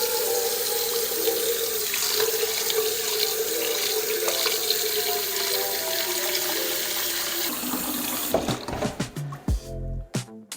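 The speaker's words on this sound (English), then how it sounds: "fill it up with water." Tap water pours steadily into a big pot in a home kitchen, a continuous rushing fill that shifts in tone as the pot fills, then the flow is cut and handling clunks follow.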